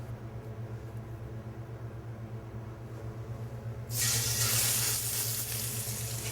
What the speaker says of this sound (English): Now you want to get a good sear on, 2 or 3 sides of a nice golden brown.